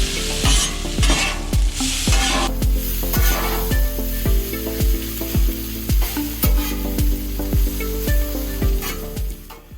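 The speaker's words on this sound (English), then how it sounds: "Give it about maybe a minute and a half, turning and flipping the meat the whole time" Marinated beef sizzling on a Blackstone griddle, a loud continuous fry hiss broken by rhythmic scraping and clacking as a spatula turns and flips the meat again and again.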